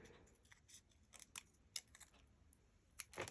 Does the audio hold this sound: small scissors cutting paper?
yes